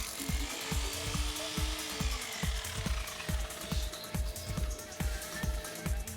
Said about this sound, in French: Percez verticalement, et veillez à la profondeur de perçage.